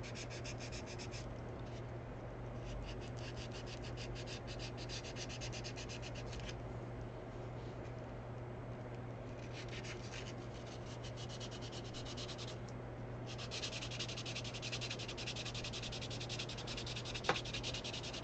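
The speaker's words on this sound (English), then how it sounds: "it probably only needs one or two other passes with a finer" Sandpaper rubs back and forth over a small cast resin sculpture in close, steady scratchy strokes with brief pauses, quiet and continuous throughout.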